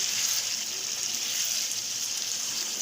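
Tomatoes frying in masala in a pan, a steady, close hiss of sizzling that stays even and unbroken throughout, with no voices.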